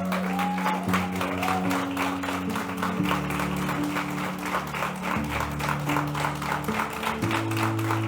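A church congregation applauds God in a sustained, dense wave of clapping under sustained music chords, steady in loudness from start to finish.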